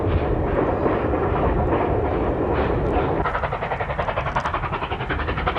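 Chinese QJ series steam locomotive hauling a train, a heavy continuous rumble and roar throughout, shifting midway to a rhythmic pulsing beat like wheels or exhaust, fairly loud with no voices.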